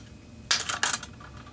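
A small plastic parts-bin lid from an electrical tape container is handled, giving two quick, close clicking clacks of hard plastic in an otherwise quiet room.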